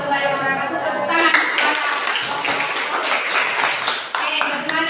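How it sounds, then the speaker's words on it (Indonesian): Students in a classroom clap together after a group presentation, a scattered patter of hands mixed with voices talking over it. "Tepuk tangan."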